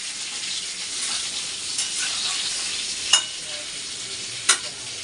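Food frying in hot oil with a continuous close sizzle, stirred now and then, with a couple of sharp utensil knocks against the pan and no voices.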